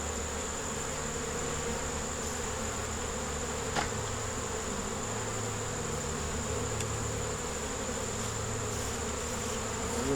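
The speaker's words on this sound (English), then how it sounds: "We'll get rid of bees first though, right Sam?" Honey bees buzz steadily around an open backyard hive, a dense continuous drone that holds evenly throughout with no voices.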